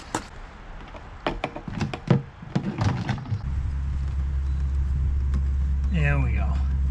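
Several clunks and clicks come first, then a Jeep Wrangler with a newly replaced fuel pump and a rough idle starts and settles into a steady, deep, close engine rumble, with a voice heard briefly over it.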